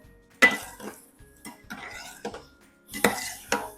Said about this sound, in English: So you stir them so they colored all around